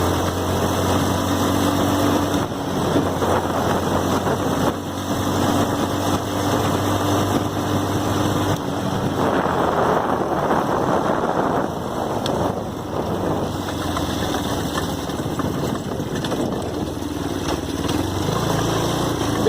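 A Chinese quad's small engine idles steadily with the choke pushed in, a constant close drone with some wind buffeting the microphone and no speech.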